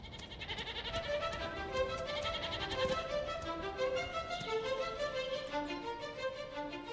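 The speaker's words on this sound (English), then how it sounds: "There are now new members of the feral primitive goat herd that have roamed these parts for centuries." A herd of feral primitive goats, including young ones, bleating in early March, many overlapping cries near and far sounding continuously at moderate loudness.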